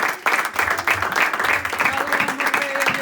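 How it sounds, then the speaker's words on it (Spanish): A church congregation applauds together, a dense continuous wash of clapping with cheering voices mixed in, loud and close throughout. "Dale un aplauso a Cristo Jesús"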